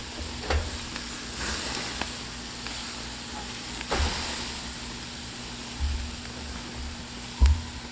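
Skirt steak sizzling on an outdoor grill, a steady soft crackling hiss with a low engine-like hum beneath and a few faint thuds and clicks scattered throughout.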